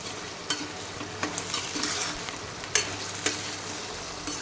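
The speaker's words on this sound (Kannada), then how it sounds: "ತೊಂಡೆಕಾಯಿ ಮತ್ತು ಹಸಿ ಬಟಾಣಿನ ಹಾಕ್ಕೊಂಡು ನೀಟಾಗಿ ಎಣ್ಣೆಯಲ್ಲಿ ಫ್ರೈ ಮಾಡ್ಕೊಳ್ಬೇಕು" Ivy gourd and green peas frying in oil, a steady close sizzle with periodic scraping taps as a spatula stirs the pan, no voices.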